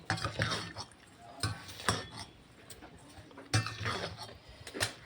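Fish pieces being mixed by hand with salt, red chili powder and turmeric in a bowl, giving soft irregular clinks and squelchy stirring taps at close range, with no talking.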